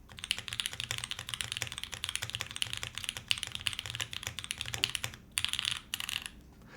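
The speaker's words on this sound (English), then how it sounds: "this is how the PCB combo sounds outside of the keyboard" Rapid typing on a bare keyboard PCB and switch combo outside its case, with a close, steady stream of sharp clicky keystrokes and a couple of short pauses near the end.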